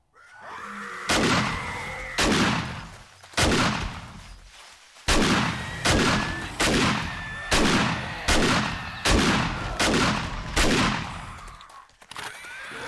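Shotgun fire in the game Darkness Falls, about ten loud, close blasts at roughly one-second intervals, each followed by a short decaying ring, with some pauses between shots.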